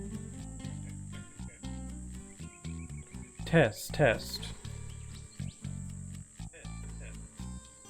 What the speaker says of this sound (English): that's just the incredibly loud crickets that are buzzing in the game